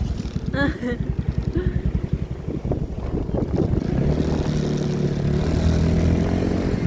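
A practice motorcycle engine sputters in rapid pulses, then settles into a steady, close mid-pitched drone while people talk over it.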